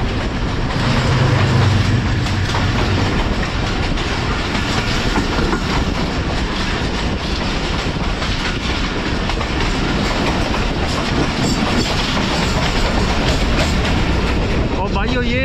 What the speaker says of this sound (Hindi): ये थी लाहौर रावलपिंडी और लाहौर के दरमियान चलने वाली 106 राउंड रावल एक्सप्रेस